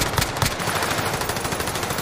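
Sustained automatic gunfire in a shooter video game rattles loud and close in fast repeated bursts, with no talk over it.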